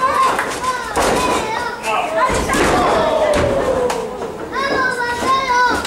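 Wrestling match where a wrestler is slammed onto the ring mat by a powerbomb, heavy thuds and slams ringing out amid loud crowd noise and excited commentary.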